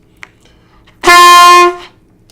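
A voice imitates a first blast on a trumpet mouthpiece: one loud, buzzy, brassy tone that holds steady for about two-thirds of a second and then cuts off, after a faint click.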